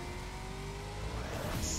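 A large, heavy car slowly accelerating in the Split Second racing video game, its engine a steady droning roar that rises gently in pitch, with a brief high whoosh near the end.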